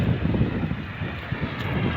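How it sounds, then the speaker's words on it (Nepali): Wind blows outdoors in a continuous low rumble that buffets the microphone, rising and falling gently in loudness across the whole stretch. "हावा चलिरहेछ यहाँ"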